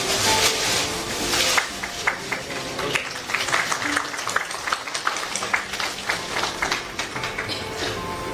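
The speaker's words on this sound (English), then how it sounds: "May I request all to kindly give a big round of applause on this momentous occasion" Audience applause at a conference panel on circular economy, a dense, steady wash of many hands clapping that carries on for the whole stretch at moderate loudness with no talk over it.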